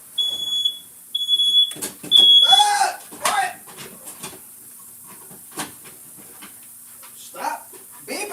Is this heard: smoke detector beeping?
yes